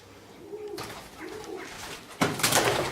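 A pigeon coos in an abandoned part of a castle, its soft low calls repeating through the clip and growing louder and rougher near the end, heard alone without talk.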